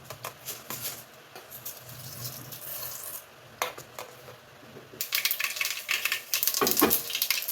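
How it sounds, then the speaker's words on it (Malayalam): Mustard seeds splutter and pop in hot oil in a pan for a banana flower stir-fry, quiet sizzling at first, then a dense burst of crackling pops close by in the last seconds, with no talk. "എണ്ണ മൂത്ത് വരുമ്പോൾ കടുകിട്ട് പൊട്ടിച്ചു കൊടുക്കാം"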